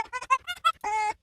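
A raw, unprocessed fox call sample, heard as a string of short, thin yelping squeaks followed by one longer, drawn-out whining cry, close and fairly quiet with nothing else around it.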